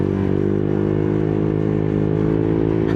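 A Honda Click 125 scooter engine drones steadily and loudly while being ridden on a rough road in San Juan, Batangas, with a continuous close hum and no voices.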